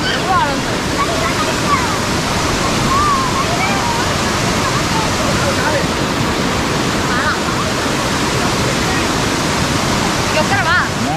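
Anguthi Falls, a waterfall near Yelagiri Hills, roars as a steady, loud, broadband rush of falling water throughout, with faint voices mixed in under the noise.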